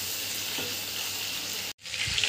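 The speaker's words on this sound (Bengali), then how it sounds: "চিংড়ি মাছগুলো একটু আধ ভাজা করে তুলে নেব।" Prawns frying in mustard oil in a pan, a steady close sizzle and hiss that cuts out briefly near the end, then resumes.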